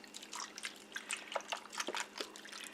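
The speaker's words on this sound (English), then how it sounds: "the last thing I'm going to do is add 2 cups of beef broth" Beef broth pouring from a box into an Instant Pot for pot roast, a faint, steady liquid trickle and splash with small drips running for a few seconds.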